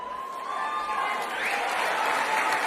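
An audience applauds, a dense, steady wash of clapping that swells slightly toward the end, loud and close, with no talk over it.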